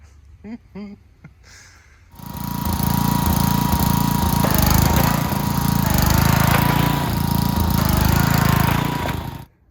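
A riding mower's engine roars steadily up close after a few seconds of quieter sounds, its drone holding loud and even before cutting off at the end.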